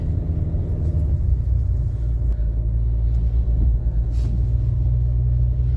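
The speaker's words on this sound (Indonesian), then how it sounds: "Sepertinya ini truk tangki BBM yang tadi dari bawah kelihatan lagi turun, udah sampai sini dia" A fuel tanker truck comes down a steep mountain road with landslide spots nearby, its engine a heavy, steady low rumble that fills the whole stretch, loud and close, with no talk over it.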